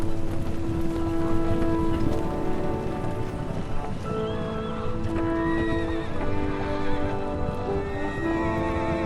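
A horse whinnies and hooves clip-clop steadily over a dense, continuous backdrop of rain and layered game ambience in Kingdom Come: Deliverance II.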